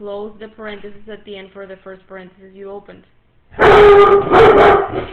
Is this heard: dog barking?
yes